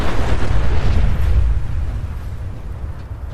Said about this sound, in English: you've got these epic explosions